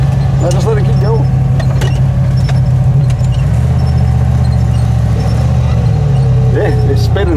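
A turbocharged Chevrolet Suburban in four-wheel high revs hard with its wheels spinning in deep snow, a loud droning engine that surges and shifts in pitch throughout, with people talking over it.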